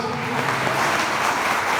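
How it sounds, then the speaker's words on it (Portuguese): A church congregation claps together in a steady, dense wash of applause, fairly loud and even throughout. "Se você recebeu, aplaude o Jesus bem forte"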